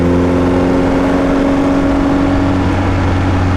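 A 1956 Austin-Healey 100-4 BN2 under way on the road gives a steady, loud engine drone with a strong low hum that holds at an even pitch throughout, heard alone without talk.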